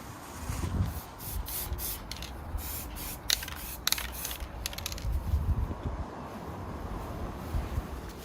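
Silver wheel paint with a built-in undercoat being spray-painted onto a motorcycle cover, a steady close hissing with a few brief pauses and clicks from the can.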